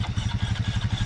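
A sunk boat's engine being cranked to start, giving a rapid, even chugging pulse of cranking strokes that runs for about a second without catching.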